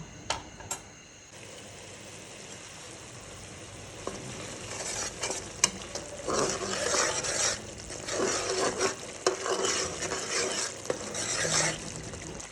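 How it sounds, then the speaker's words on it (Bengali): Duck meat being stir-fried with spice paste in a pan, with repeated scraping strokes of a spatula over a steady close sizzle, growing busier and louder partway through. "মশলাটা আবার একটু কষানো হোক"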